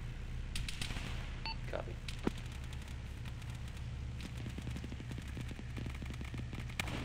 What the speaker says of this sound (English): We have gunfire audio north of one.